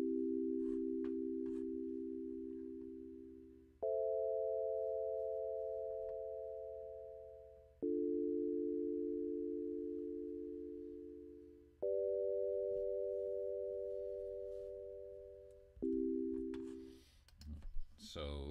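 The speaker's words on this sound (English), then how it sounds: "That is the sound of a 1-6-2-5 chord progression." A Sonic Pi synth plays a 1-6-2-5 diatonic chord progression as sustained chords, each one struck and held for about four seconds before fading, moving between low and higher voicings and cut off near the end.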